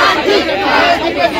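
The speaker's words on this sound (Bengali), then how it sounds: "স্লোগান দেওয়া" A dense crowd of voices raised in a protest chant at a North Bengal University demonstration, loud and continuous throughout with no pauses.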